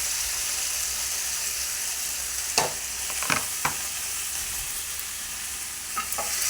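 Tomatoes and coriander frying in a pan for tomato chutney, a loud steady hiss of sizzling oil with a few brief spoon scrapes and stirring knocks.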